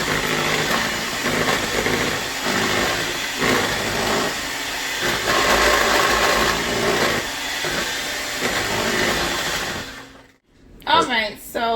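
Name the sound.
electric mixer mixing pineapple rum cake batter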